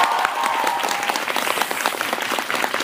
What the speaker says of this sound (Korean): 여러분들 기대한다는 그런 파이팅에 박수 부탁드릴게요.